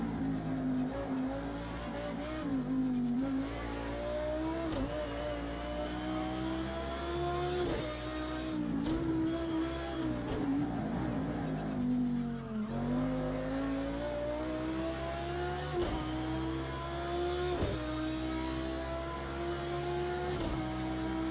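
An Audi LMS race car in Project CARS 2 at Bathurst drones steadily through corners, its engine pitch dipping under braking and rising on exit, with faint tyre scrub in a continuous, moderately quiet stretch.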